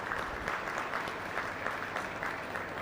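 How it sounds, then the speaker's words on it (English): Steady applause from an audience at a youth dairy cattle show, a dense even patter of many hands clapping at a moderate distance, continuing without a break and with no voices over it. "Give them all a round of applause."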